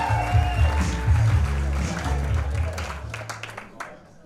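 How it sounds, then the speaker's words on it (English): Audience applause at a live stand-up comedy show, steady clapping from a crowd that fades out over a few seconds, mixed with background music and a voice over the top. "And I'll get my man over there, Dev, to kick off the round of applause"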